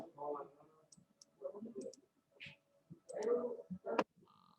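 A few sharp computer keyboard and mouse clicks sound while data is copied from an Excel spreadsheet, scattered among a person's steady talking nearby.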